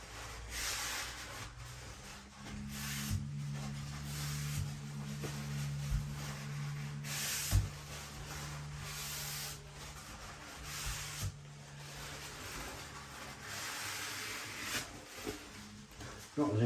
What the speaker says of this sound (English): Just going to take a rag and wipe off any excess.